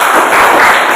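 Classroom applause during a school lesson, a brief burst of students clapping together, loud and close, filling the whole moment.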